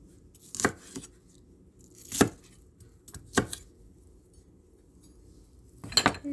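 Ampalaya (bitter gourd) is chopped on a board for Ampalaya Con Carne: a few separate, crisp knife chops spaced apart, close and fairly quiet, with silence between them.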